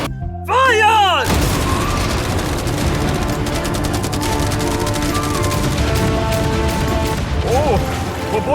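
Cannons, fireworks, arrows and catapults all fire at once in a boat-defense video game, a dense, loud barrage of overlapping booms and crashes with no let-up, after a brief rising chime.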